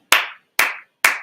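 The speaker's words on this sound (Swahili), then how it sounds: "umekaribishwa sana kwa makofi ya kilo 1, 2," Three sharp, loud bursts of hands clapping in unison, evenly spaced about half a second apart with silence between, like a rhythmic group welcome clap.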